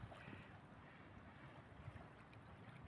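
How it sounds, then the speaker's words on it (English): Gentle waves lap softly against the shore beside a boat ramp, a faint, steady wash of water under light wind noise, continuous and without distinct splashes. "You hear the gentle lapping of the waves."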